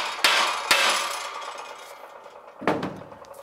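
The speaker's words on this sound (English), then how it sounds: "A couple bonks with the hammer." Three sharp metallic hammer strikes on a wheel hub of a 2007-2011 Toyota Camry during bearing replacement, two close together at the start and a third after a pause, each ringing briefly.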